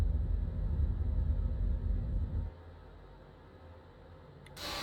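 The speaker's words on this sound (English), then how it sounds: "You can hear the flaps just as loud on the outside as you can on the inside." Flap motors of an Embraer 190/195 in a flight simulator game drone as a low, steady rumble that cuts off midway, leaving only quieter cabin ambience.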